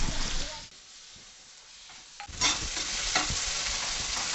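Tomato stirred and cooking in hot oil for a Marathi sprouted moong usal, with a steady close sizzle, a quieter dip, then louder scraping stirs and crackling frying.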